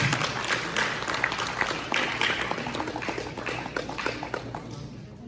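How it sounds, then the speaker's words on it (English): Applause from an audience at a Pongal celebration, a steady wash of many hands clapping that holds for several seconds before thinning slightly, with some background voices mixed in. "Can we have a round of applause?"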